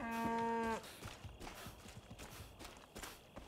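A single long cow moo from the video game Far Cry 5, loud and close, lasting under a second, followed by softer scattered thumps and shuffling noises.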